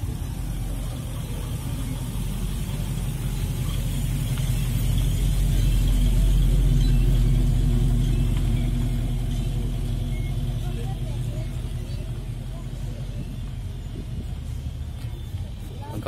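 A Chevrolet car at a vintage vehicle gathering runs with a steady, loud low engine rumble that swells slightly mid-way, with crowd noise and talk in the background.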